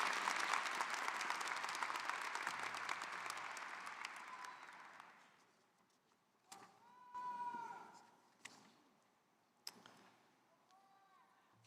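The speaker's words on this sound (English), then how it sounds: "Please join us in a round of applause." A crowd at a psychology commencement ceremony applauds graduating thesis students, loud sustained clapping that fades out after about five seconds, followed by scattered knocks and shuffling sounds.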